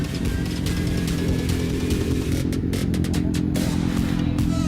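Modified Kawasaki ZX6R sport bike engine running steadily at a loud, constant drone with a dense exhaust rasp and faint clattering on top, no talking.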